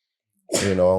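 A single sudden sneeze bursting out of silence, loud and close, rising sharply then trailing into a voiced exhale.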